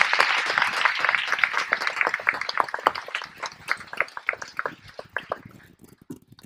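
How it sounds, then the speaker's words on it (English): A graduation audience applauds faculty and staff, the clapping dense and steady for several seconds before thinning into scattered claps that fade out. "Let's give them a round of applause."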